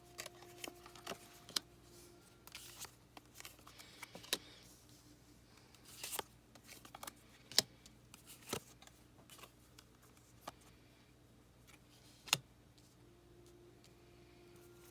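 Tarot cards shuffled in short bursts, soft papery riffles and flicks with occasional sharper snaps, fairly quiet and close, no voices.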